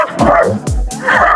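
A dog at a rural home cooking area in Dueñas, Iloilo gives two or three loud, close barks and yips in quick succession, with no one talking.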